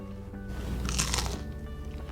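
A crisp Vietnamese-inspired pancake made with coconut milk and turmeric, dunked in soy sauce and bitten once at close range, giving a sharp crackling crunch followed by faint chewing.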